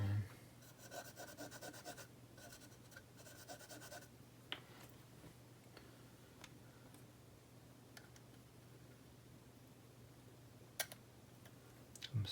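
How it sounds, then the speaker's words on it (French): Soft, steady rubbing on hard drive connectors during a PC drive swap, faint and close, with scattered small clicks and taps and no talking. "On va juste nettoyer les connecteurs."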